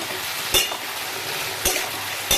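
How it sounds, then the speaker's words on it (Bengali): Potatoes for aloo posto sizzle steadily in a hot pan, with three sharp scraping stirs cutting through the crackle. "আলুটা ভাজা ভাজা হইতেছে"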